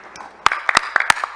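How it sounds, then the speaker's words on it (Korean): Scattered handclaps from a seminar audience welcoming a visiting professor at an Arctic cooperation event, a handful of sharp claps rather than full applause, fairly close and alone. "큰 박수로 교수님을 환영해 주시기 바랍니다."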